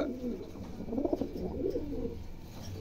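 Homer pigeons cooing nearby, soft low throaty coos repeating in short rolling phrases, moderately quiet against light background noise.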